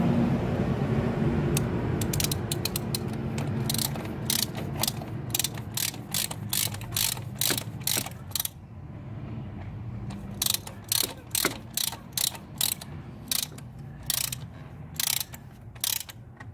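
Ratcheting clicks as the fuel filter cap is tightened on a Ford 6.0 Powerstroke diesel, a steady run of evenly spaced sharp pawl clicks close up, preceded by a louder rough rattle, no talk.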